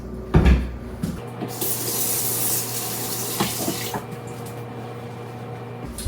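A lemon is rinsed under a running kitchen tap, water splashing and hissing steadily into the sink after a brief clatter at the start.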